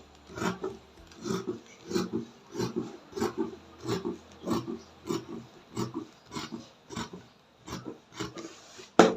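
Ankara fabric being cut out for a bralette, a steady series of about fourteen crisp scissor snips in an even rhythm, close and fairly loud with no talking.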